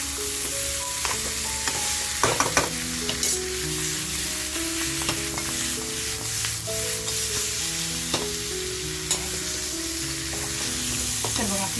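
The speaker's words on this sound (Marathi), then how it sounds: "तर बघा आपलं सुक्कं मटण सुद्धा असं छान फ्राय झालंय" Dry Kolhapuri-style sukka mutton frying in a pan, a dense continuous sizzle and crackle held at an even level throughout, broken by occasional sharp spatters and faint stirring clinks, close up with no voices.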